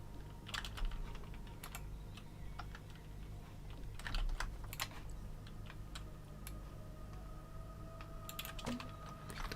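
Rapid typing on a computer keyboard, with clusters of light key clicks and occasional heavier strokes in an irregular rhythm, heard close over a steady low hum with no talking.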